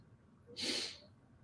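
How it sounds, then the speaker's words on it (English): A single sharp nasal inhale during a yoga breathing exercise, a short loud hissing sniff lasting about half a second, close and alone against a quiet background. "inhale for 4 long sniffs"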